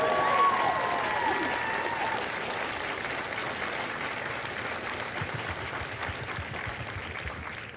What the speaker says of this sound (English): So please join me in a well-deserved round of applause for the drill instructors and families of